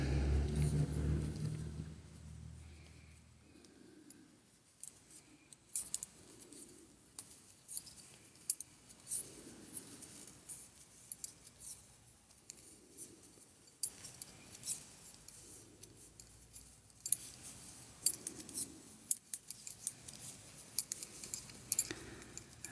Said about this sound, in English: Just the sound of progress, needles clacking together.